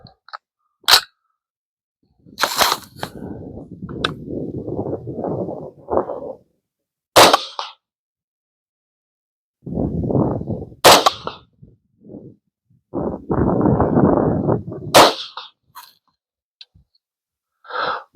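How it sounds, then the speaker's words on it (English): Rifle shots ring out at a range during load development, with half a dozen loud, sharp cracks spaced seconds apart, each trailed by a rumbling echo, and quiet stretches between them. "We'll get it loaded back up, and then we'll shoot again."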